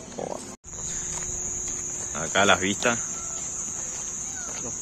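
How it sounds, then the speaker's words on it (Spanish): Cicadas buzz at night in a neighbourhood in Chajarí, Entre Ríos, as a steady loud high drone throughout, briefly cut once near the start, while someone talks close by in the middle. "Esto es re común acá que se escuchen las chicharras todo el día."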